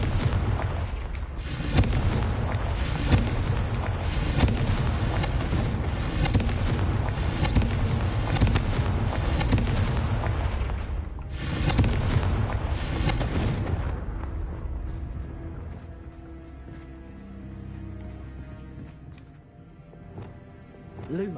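Confringo blasting spell explosions in the video game Hogwarts Legacy, a dense run of loud booming blasts and rumbling impacts for about fourteen seconds, then fading into quieter game ambience.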